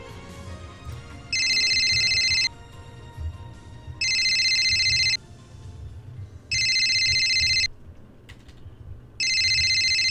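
A phone rings in the video game Steins;Gate: four evenly spaced electronic ring bursts, each about a second long, loud and clear over a low, murmuring background.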